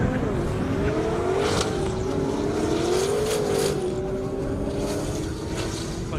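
A 1,000-horsepower race car accelerates hard on a half-mile airstrip at Indy, its engine a loud, continuous close roar whose pitch climbs and shifts through the run.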